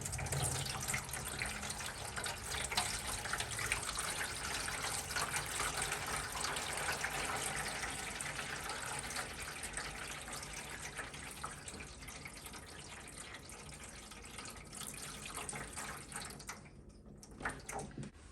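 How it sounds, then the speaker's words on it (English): Water pours steadily into a hydroponic garden tray, a continuous close splashing gush that holds for many seconds and then cuts off briefly near the end. "we are going to add 1 gallon of water to each tray and make sure we're not leaking anywhere"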